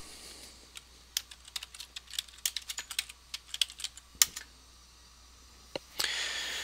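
Fingers type a password on a computer keyboard, a quick run of light, close key clicks in an uneven rhythm over several seconds, ending with a pause and a final key press.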